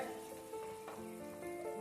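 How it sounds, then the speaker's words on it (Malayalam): Sweet lemon pickle bubbles and sizzles steadily in a pan on the stove, a soft continuous frying crackle with a faint background hum and no talking. "നമ്മുടെ അച്ചാർ നന്നായിട്ട് തിളച്ച് വന്നിട്ടുണ്ട്"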